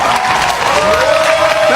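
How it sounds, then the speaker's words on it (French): Loud, dense applause and cheering from a concert audience in Côte d'Ivoire welcoming a guest, with voices calling out over the clapping. "maximum d'applaudissements s'il vous plaît pour Saran"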